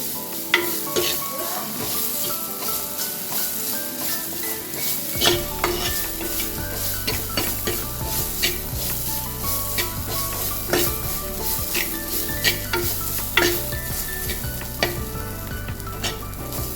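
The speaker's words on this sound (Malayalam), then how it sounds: "നല്ലോണം ഇളക്കി കൊടുക്കുക ഈ ചൂടിൽ" Crushed mixture for raw mango rasam frying in a hot pan, a steady close sizzle broken by repeated scraping and clinking strokes of a spoon as it is stirred.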